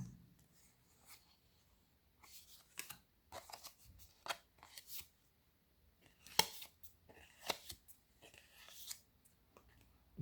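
Symbolon cards leafed through one after another, producing soft, irregular papery flicks and slides with quiet gaps between them, close by and fairly faint.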